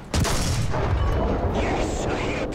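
A single loud tank cannon blast in War Thunder booms at the start, followed by a long rumbling decay and mechanical game sounds.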